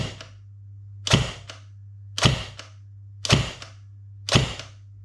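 A Cybergun P90 airsoft gun fires single shots over a chronograph, five sharp close cracks spaced about a second apart, each with a short tail, over a low steady hum.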